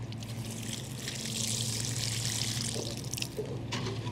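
A little water poured from close by onto a freshly transplanted strawberry runner set in garden soil, giving a steady, soft trickle that swells slightly midway, with no voices.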